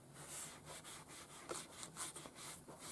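A cleaning sponge rubs back and forth over a part of a Roberts R707 radio, a soft close scrubbing swish in uneven strokes, faint and without voices.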